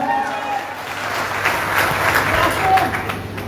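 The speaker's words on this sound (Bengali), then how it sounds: "তার জন্য একটা করতালি হবে" Applause from a political party coordination meeting audience in Chandpur, steady clapping filling the hall for a few seconds with a faint voice and crowd murmur underneath.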